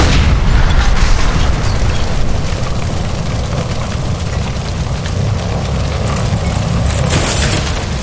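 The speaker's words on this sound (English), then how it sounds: "Shoot the gas line, Cole, we're out of here!" Gas line by a stove exploding in the video game L.A. Noire, a loud, deep, sustained boom and rumble that stays dense and heavy for several seconds without easing off.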